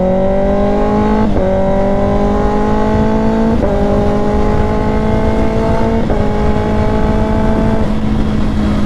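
A Kawasaki ZX6R motorcycle engine holds a steady high drone through several quick-shifter upshifts, each marked by a brief dip and step in pitch at regular intervals. It stays loud and close throughout, with no talking.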